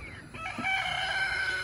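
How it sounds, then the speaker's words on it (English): Chickens held in a large dog kennel cluck and call in short, overlapping bursts, fairly faint and close, over a low steady background hum. "So we collect our birds from the chicken tractors in this large dog kennel."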